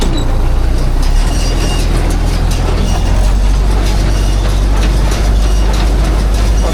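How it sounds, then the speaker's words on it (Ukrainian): A tractor engine runs steadily in first gear with the range multiplier set high while baling hay on a hot day, giving a loud, continuous low rumble and drone close by with no talk. "Так, запускаємо трактор швиденько."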